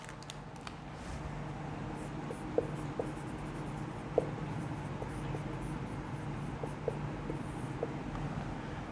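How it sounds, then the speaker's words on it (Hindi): Chalk or marker writing on a board during a chemistry lesson, a steady scratchy scraping with a few small taps, moderately close over a faint room hum and no talk. "तो पहले लिख लेते हैं अपन कि इसकी ट्रांस इफेक्ट क्या है।"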